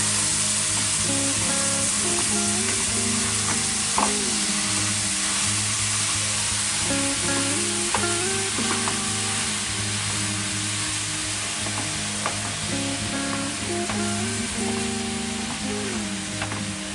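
Homemade chili ingredients sizzling steadily in a pan while a utensil stirs and breaks them up, with a continuous loud frying hiss and periodic scraping knocks.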